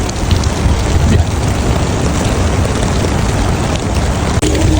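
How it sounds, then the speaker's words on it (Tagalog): Heavy afternoon rain in a desert country pours down in a dense, steady hiss close by, loud and continuous, with a faint rumble underneath and a brief spoken word near the end. "Maulan na bandang hapon sa bansang disyerto."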